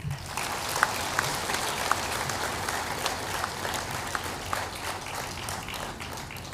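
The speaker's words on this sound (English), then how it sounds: "So please give a resounding applause to both of them." A crowd at a university convocation applauds with steady, sustained clapping from many hands, fairly loud and even throughout.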